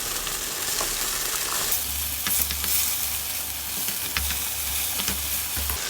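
Fish cake and garlic sizzle and crackle in a hot pan while being stir-fried, a steady bright frying hiss with occasional scraping stirs, close up and without talk.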